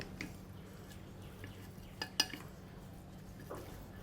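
Noodles are tossed with shallot oil in a bowl, giving quiet, sparse clinks and taps of utensils against the dish over a low background hum.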